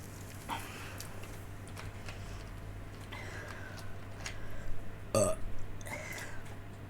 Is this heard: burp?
yes